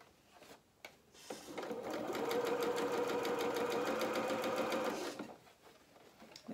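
A sewing machine stitches a dress bodice band in one steady, close whirring run of about three seconds, with quiet handling pauses before and after.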